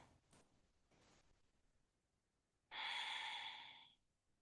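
A person breathes through a standing yoga stretch, with faint soft breaths at first and then one long, loud, close exhale lasting just over a second.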